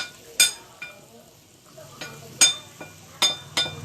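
Chicken gota, a Batak dish, is stir-fried in a pan near Lake Toba: several sharp clinks and scrapes of a utensil against the pan land at irregular moments over a faint, low sizzle.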